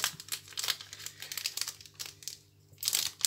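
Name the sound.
opening a Panini Captain Tsubasa football card packet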